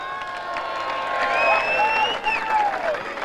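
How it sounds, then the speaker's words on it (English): A large crowd applauds and cheers the players at the end of an Australian rules football legends match, with steady clapping and scattered whistles and shouts filling the stadium. "Would you please give a big round of applause to all the players tonight?"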